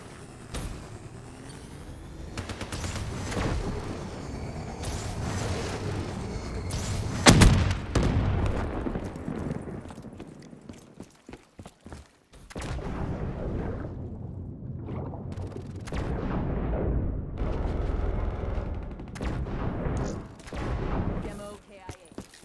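Artillery strike explosions in Black Ops III multiplayer, with heavy booming blasts and rumbling impacts clustered early and later, a brief near-silent gap between them and announcer voices over the action.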